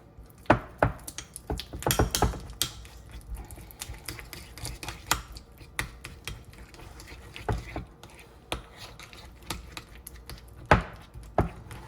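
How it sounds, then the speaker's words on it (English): Spoon blending ingredients together in a bowl, irregular close taps and scrapes with quiet stretches between, sharper clinks now and then, no talk. "I'm just gonna blend these both together with my spoon"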